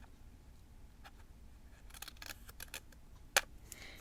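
A tool scores a line on the back of cut paper for a star ornament, giving faint scratchy strokes that build to one sharp click near the end.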